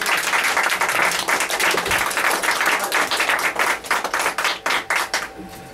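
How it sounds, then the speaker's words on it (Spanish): Audience applauds for a first-time filmmaker, full clapping at first that thins toward the end into a few distinct, spaced individual claps close to the microphone. "Pero un aplauso fuerte para Nebraska de Aranzón."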